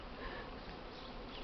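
Honeybees swarming outside the hive on an early spring cleansing flight, near snow-covered ground in Polesie, making a dense, continuous buzzing hum that stays steady and fairly faint with no voices.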